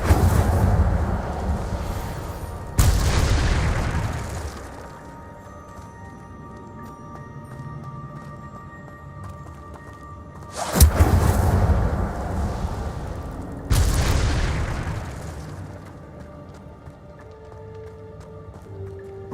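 Hogwarts Legacy Incendio fire spells burst out as three separate whooshing explosions spaced several seconds apart, each a broad roar that fades, over a low steady game background.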